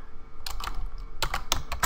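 Keys clack on a computer keyboard in quick clustered bursts with short pauses, close and crisp against a low background hum.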